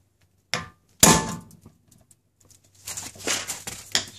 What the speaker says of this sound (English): and then hit it with a big hammer.